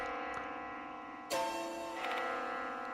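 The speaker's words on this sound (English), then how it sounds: "The sound of a bell." A bell rings in the Spirit Hunter: Death Mark II video game, a resonant metallic strike that lingers with long sustained overtones over a steady eerie ambient drone.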